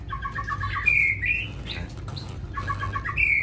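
Caged oriental magpie robin and bulbul chirp close by, with bursts of quick repeated notes and bright whistled calls that fade and return, over a low steady background hum.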